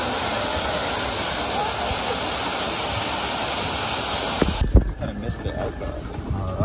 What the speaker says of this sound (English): Ooh, that's a pretty waterfall.